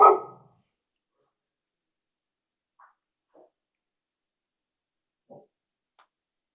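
A single sharp dog bark rings out close and loud at the start, followed by a few faint, brief yips or noises at a distance in an otherwise quiet room.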